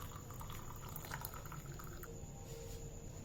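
Boiled ajwain (Indian oregano) leaf water is strained, giving a soft continuous liquid pouring and trickling sound, faint and steady, with no talking.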